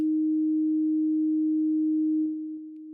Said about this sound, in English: you should be hearing a sine tone, a nice clean tone